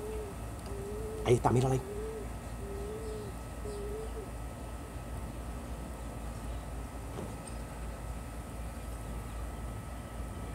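A black pigeon with a large, round crop coos in a run of low, soft, repeated calls over a steady background hum, with a brief louder clatter near the start and a person speaking nearby.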